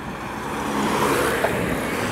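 A USPS mail truck passes by on a street, heard as a steady mid-distance engine and road hum that swells slightly in the middle with no voices.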